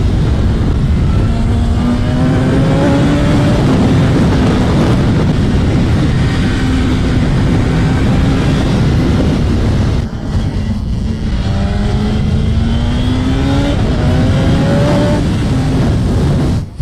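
A 2025 BMW S1000RR motorcycle engine at full throttle, loud and close, with its pitch climbing through the gears in repeated rising sweeps, each dropping back at the shift. Heavy wind rush runs underneath the whole time.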